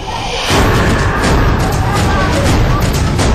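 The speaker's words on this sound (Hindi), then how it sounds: "यहाँ कोई बम नहीं बल्कि एक एलपीजी सिलेंडर फटा है।" An LPG gas cylinder explodes in Delhi with a sudden loud blast, then gives way to a sustained, roaring wall of noise that stays loud to the end.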